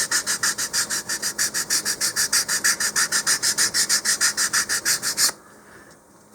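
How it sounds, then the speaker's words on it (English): Sandpaper rubbed back and forth on a model rocket part, a fast even rhythm of close rasping strokes that stops abruptly near the end, leaving quiet room tone. "We'll sand that a little bit more."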